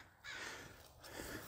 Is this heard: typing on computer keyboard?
no